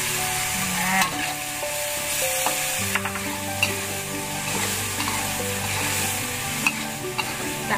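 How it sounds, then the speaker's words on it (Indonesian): Braised pork with soy sauce and oyster sauce stirred in a pan, a constant close sizzle with repeated scraping and clinking utensil strokes, no voices. "kita aduk rata dulu"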